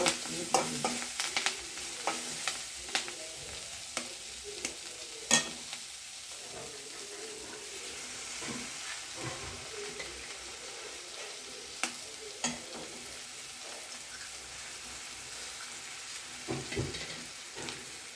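Eggs and drumstick leaves fry together in a pan, with a continuous sizzle broken by frequent scraping stirs and occasional sharp clinks of the spatula.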